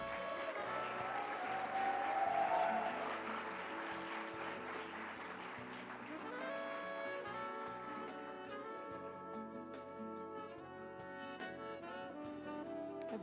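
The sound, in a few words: audience applause for a delegation at an opening ceremony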